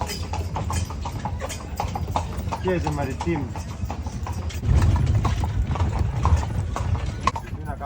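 Horse hooves clip-clop in a steady rhythm under a steady flow of conversation, with the background growing louder partway through.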